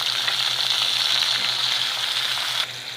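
Chopped onions and green chillies fry in a little oil in a pan for kaala chana chaat, giving a steady, close sizzle that holds even throughout and drops slightly near the end, with no talking.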